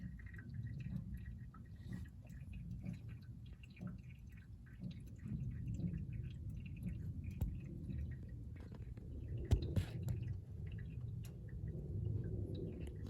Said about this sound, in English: That's the sound of the oil running back to the sump